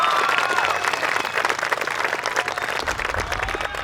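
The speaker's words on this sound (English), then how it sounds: "Give him a big round of applause." Audience applauding at a high school friendship service ceremony, a steady wash of many hands clapping that holds fairly loud throughout, with a faint murmur of voices mixed in.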